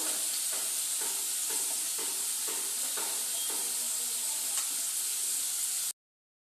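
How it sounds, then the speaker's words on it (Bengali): Potatoes and peanuts frying together in hot oil, an even bright sizzle with a series of light stirring knocks at a steady pace, close by, no speech, ending abruptly in silence. "এই আলু ভাজতে ভাজতে এই তেলের মধ্যে একবারে ভেজে নেব। বাদামটা একটু লাল লাল করে ভেজে নেব।"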